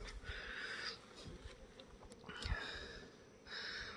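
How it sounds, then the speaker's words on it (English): Bees buzzing steadily near the microphone in outdoor air by fruit trees, the drone swelling and fading in a few passes. "Bees are being like really energetic today for some reason."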